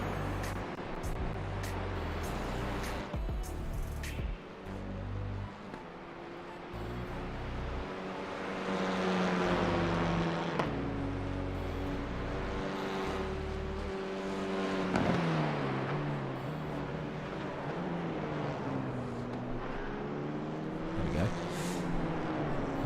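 Renault Clio Cup race car engines in a sim racing game at Knockhill, several engine notes droning and sweeping up and down in pitch through gear changes, continuous and moderately loud, with no talking.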